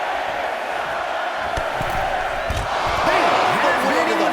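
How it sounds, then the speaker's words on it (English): A wrestling arena crowd in WWE 2K25 roars in a steady, wide wash of cheering that swells louder toward the end, with a few thuds and whoops rising from the noise. "Chyna drawing a big reaction from the crowd"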